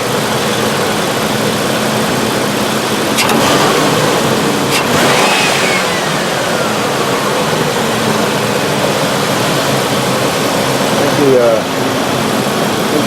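A 1997 Mercury Grand Marquis engine idles steadily with a slight skip, a continuous close mechanical hum and whir with a brief swell of revving partway through, no distinct voices over it.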